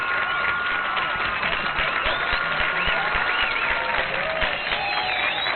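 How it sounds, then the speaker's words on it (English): A crowd applauds continuously and loudly with dense, steady clapping and some cheering mixed in, filling the whole stretch without a break. "Give us some applause."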